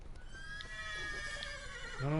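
A horse neighs in the background of a video game, Witcher 3, over a steady ambient bed, then a louder whinny breaks out close at the end.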